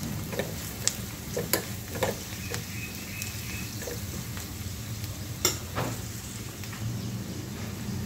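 Fenugreek seed bhaji with chilli powder and coriander powder stirred in a pan, a soft frying sizzle under scattered scrapes and clicks of the spoon against the pan, close and fairly quiet.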